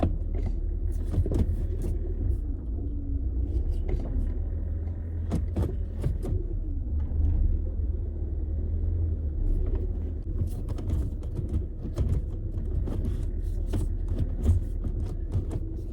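An old scrap car's engine idles with a steady low rumble while the car is moved, scattered clicks and mechanical knocks sounding over the running motor.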